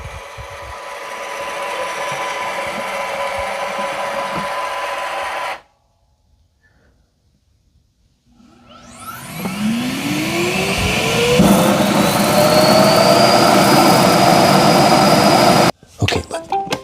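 An iRobot Roomba i5+ robot vacuum returns to its dock: a steady motor whir cuts to near silence, then the self-emptying base starts with a loud, rising suction roar that holds before stopping abruptly.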